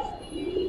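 A silver military pangkhi pigeon coos in a low, rolling call that swells toward the end of a brief, close moment, with faint background noise.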